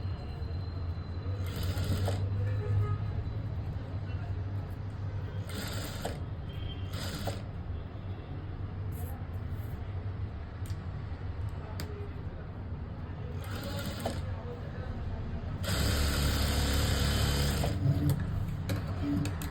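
Sewing machine stitching a blouse sleeve, a steady mechanical whir running through the clip with a few louder bursts near the end, faint talk in places.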